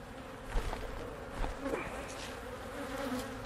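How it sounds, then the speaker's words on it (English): Honey bees buzzing around a hive frame during a fall honey harvest, a dense, continuous drone, close and steady throughout, with no speech. "We'll shake the bees off of this frame."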